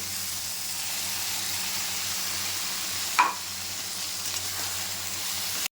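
Mustard and poppy seed paste sizzles and fries with okra in a pan, a steady close hiss throughout with one brief louder splutter midway, no talking.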